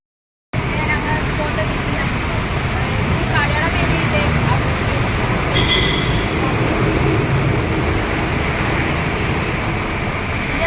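A loud, steady metro train rumble fills the scene beneath Muttom metro station, a continuous roar of wheels with a faint squeal partway through.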